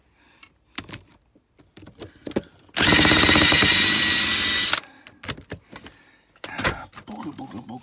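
A power drill whirs loudly for about two seconds while backing screws out, set between quieter clicks, clatter and handling noises before and after the burst.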